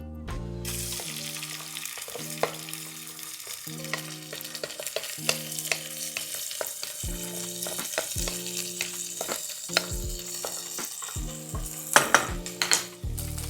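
Rice frying in vegetable oil in a pan gives a steady sizzle with repeated scraping and clinking from stirring, all under a soft tonal musical backing.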